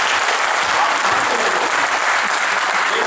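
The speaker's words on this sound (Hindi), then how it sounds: "नीरज जी के सम्मान में जोरदार ताली कर" Audience applause at a political gathering in India, dense steady clapping that fills the whole clip at close, even loudness.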